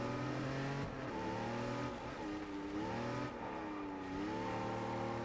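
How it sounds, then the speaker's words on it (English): A sports car's engine revs and accelerates in the racing video game Test Drive Unlimited on Hong Kong streets, its steady, loud drone climbing in pitch through several gear shifts across the whole stretch. "it does sound very nice, and it does get up to speed pretty nice"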